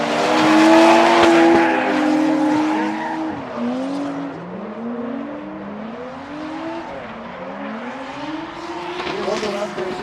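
A drifting car on a race track, its engine wailing and rising and falling in pitch as it slides through corners, with tire noise. A voice comments over it throughout.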